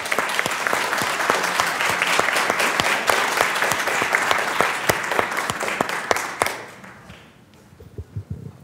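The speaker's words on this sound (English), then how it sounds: "Please give a warm round of applause to the independent senator from Vermont, Senator Bernie Sanders." A conference audience gives a senator from Vermont a warm round of applause, dense and loud clapping that holds steady for about six seconds and then tapers off into a few scattered claps.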